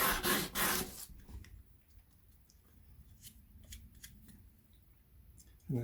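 Fine 600-grit sandpaper rubs against a small 3D printed 1/12 scale miniature baseboard in short, soft scratchy strokes, with a louder burst of handling noise at the start and end.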